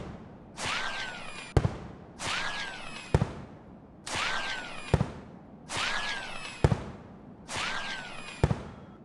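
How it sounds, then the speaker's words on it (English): Fireworks launched in the game Yeeps, five evenly spaced bursts, each a rising whoosh that ends in a sharp crack, loud and close with no talk. "we're just gonna test it and see how many fireworks we can use in one full loadout"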